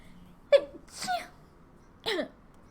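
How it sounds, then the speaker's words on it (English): A single sharp sneeze, followed by a couple of softer breathy sniffs and exhalations, close and otherwise quiet. "Oh my gosh, I'm gonna sneeze again."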